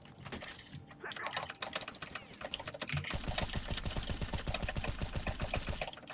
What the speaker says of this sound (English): Spam the strafe keys and then click.